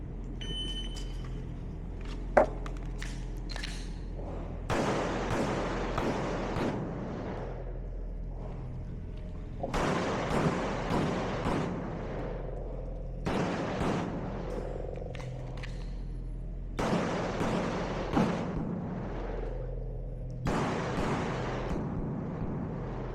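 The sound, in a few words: competition pistol shots during a shooting stage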